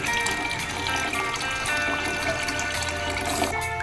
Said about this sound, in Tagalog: Maglagay na tayo guys ng sabaw.